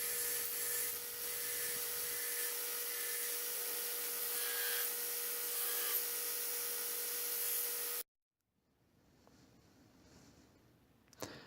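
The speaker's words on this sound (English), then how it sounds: "I'm grinding a little bit of excess on the profile right here" A belt grinder taking excess off the profile of a forged full-tang knife handle: a loud, steady, bright grinding whine that runs for about eight seconds, then cuts out abruptly, leaving faint quiet rustling.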